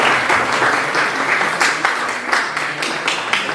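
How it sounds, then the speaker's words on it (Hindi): An audience at an education seminar in Ambala breaks into loud, dense applause, a continuous roar of many hands that stays strong throughout. "जोरदार तालियों से प्लीज आप इनका हौसला बढ़ाएं।"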